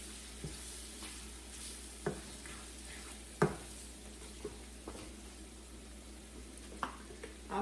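Garlic frying in a pan for bhindi masala, a quiet, steady sizzle broken by occasional clicks and scrapes of a utensil stirring against the pan.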